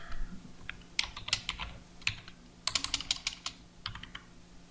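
A computer keyboard clatters with close, crisp keystrokes as code is typed into an Excel VBA module, arriving in quick uneven bursts with brief pauses and no talking.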